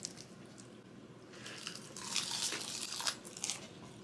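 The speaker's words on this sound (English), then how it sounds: "Super crunchy." Quiet crisp crunching of Korean dried seaweed (gim) wrapped around rice being bitten and chewed, a few irregular crackly bursts close to the ear.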